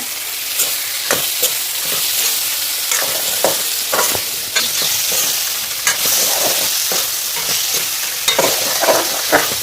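Tomatoes, green chillies and ginger paste fry in a pan with a steady sizzle and hiss, punctuated by frequent scraping stirs of a spatula, close and without talk.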